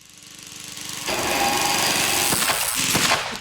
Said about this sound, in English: Sounds like the test motor is bagged